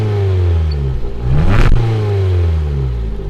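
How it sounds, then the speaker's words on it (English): Ford Fiesta engine revving nearby, rising from a steady idle to a sharp peak and falling back down, loud and clear with no talk. "now let's go and see how the Fiesta sounds"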